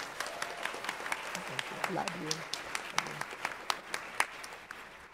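Audience applause at an ALC 18 political event, a steady patter of clapping with sharper individual claps standing out, while a voice briefly calls out over it.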